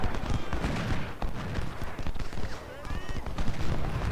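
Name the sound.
artillery and rifle fire in Ultimate General: Civil War video game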